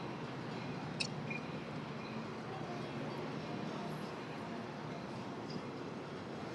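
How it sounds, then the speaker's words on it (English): A Metra commuter train pulls out of Union Station in Chicago, heard from the street above as a steady, far-off rumble of rail noise that runs throughout under city traffic, with no talking. "So that Metra engine would have been coming out of Union Station."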